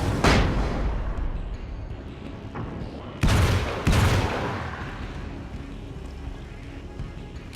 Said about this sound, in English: the combat shotgun kicks some serious ass